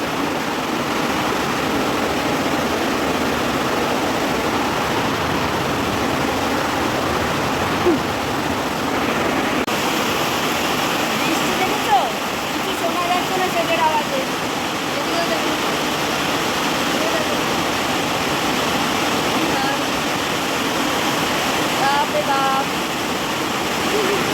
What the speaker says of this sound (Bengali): ছাদে এলাম দেখো কি বৃষ্টি জোর বাবা রে